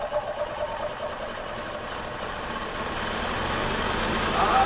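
A 2001 EZGO TXT gas golf cart engine runs steadily with a rough, knocking idle, its vibrating drone growing slightly louder toward the end.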